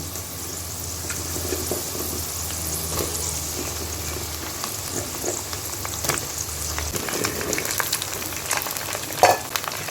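Cut and washed eggplant goes into hot oil already seasoned with garlic, dried chilli and ginger, giving a steady close sizzle with scraping stirs and clatter throughout.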